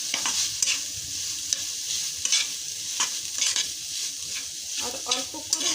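Vegetables with light soy sauce are stirred in a hot pan, a continuous sizzle broken by repeated scraping and clinking strokes of a utensil close by, with no talking.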